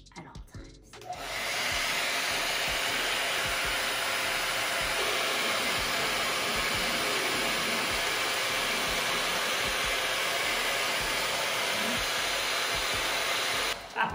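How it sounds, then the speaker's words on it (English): A hair dryer switches on and blows with a steady, loud broadband roar that holds constant for over ten seconds, then cuts off near the end. "now it's time to get the hair dryer"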